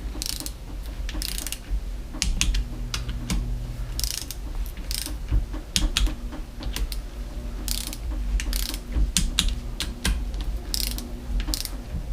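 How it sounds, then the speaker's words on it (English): An inch-pound torque wrench ratchets repeatedly while tightening KTM 250SX engine bolts in a crisscross pattern, with rapid clicking bursts, brief pauses between strokes and faint background hum, close and steady throughout. "So I've got the inch-pound wrench set to 9, so we'll start with that in a crisscross configuration."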